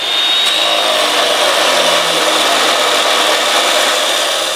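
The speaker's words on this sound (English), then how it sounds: "So we'll clamp it down, cut through." A power saw cuts steadily through a steel acrow prop at an angle, a loud continuous grinding whine with no pauses, alone without talk.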